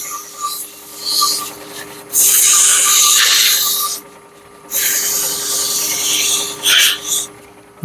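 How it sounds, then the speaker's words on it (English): Wood being sanded by hand, working up through grits to 220, comes as bursts of harsh rasping strokes separated by quieter pauses, loud and close. "I'll do sanding all the way up through 220"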